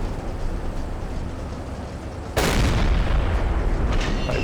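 A distant explosion in the Silent Hunter 3 submarine game: a low rumbling boom hits suddenly midway and its heavy roar holds over steady background rumble to the end.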